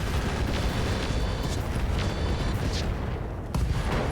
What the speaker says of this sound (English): we still took it out with an SRM ammo explosion